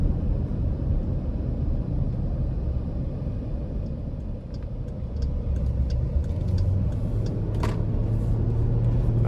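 A 2021 Jeep Grand Cherokee Altitude with a 3.6 V6 and 8-speed transmission cruising along, giving a steady low engine and road rumble with a faint rising whine near the end and no talking.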